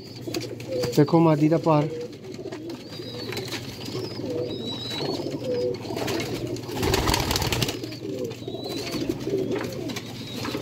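Pigeons coo softly and repeatedly throughout, with someone talking over them and a brief flutter of wings partway through.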